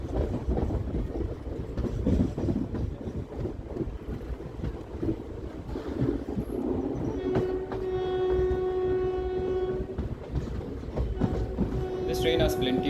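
Koyna Express passenger train rolling slowly through a station loop line, with steady rumbling wheel and car noise throughout and a sustained horn-like tone in the latter half, under wind buffeting.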